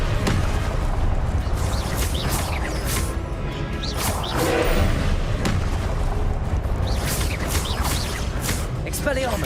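Confringo spells cast in Hogwarts Legacy: dense, continuous magical blasts and booming whooshes layered over a loud, busy combat soundscape, with a voice speaking throughout.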